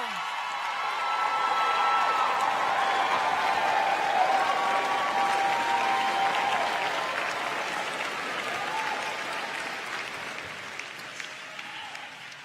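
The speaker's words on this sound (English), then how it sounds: "and clap for your loved ones." At a university graduate recognition ceremony, a large audience applauds steadily for several seconds, the clapping swelling and then slowly thinning out toward the end.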